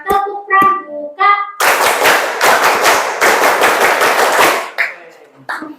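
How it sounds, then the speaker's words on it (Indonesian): A class of students does the rhythmic Scout clap, a quick run of loud, close hand claps in patterned bursts. It follows a short sung chant and ends with a brief voice. "Ku gabung menjadi 10, ku bertepuk tangan. Tepuk pramuka."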